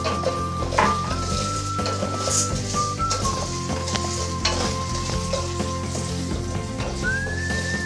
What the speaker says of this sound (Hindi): 2 टेबल्स ऑयल में हम डाल लें 1 कप पॉपकॉर्न और इसको अच्छे तरीके से मिक्स करके हम कर देंगे कवर